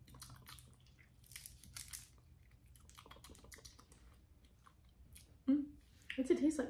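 Grape-flavoured hard candy being chewed up close, with faint wet, sticky crunching and smacking at low level and a louder burst of crunching near the end, with scattered talk around it.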